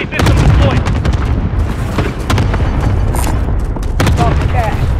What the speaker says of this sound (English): Strike arriving. Rocket system deployed.